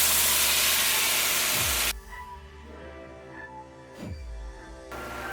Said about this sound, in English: now our strawberries begin to cook